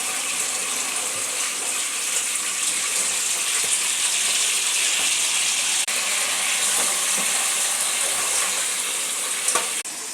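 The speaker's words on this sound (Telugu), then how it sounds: "ఇప్పుడు లంచ్ ప్రిపేరు చికెన్ ఫ్రై చేసుకుంటున్నాం" Chicken fries in a pan with a loud, unbroken sizzle that stays even from start to finish, close up and with no voices.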